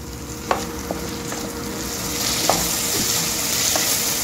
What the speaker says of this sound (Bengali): আদা রসুনের কাঁচা গন্ধটা না যাওয়া অবধি কষিয়ে নিতে হবে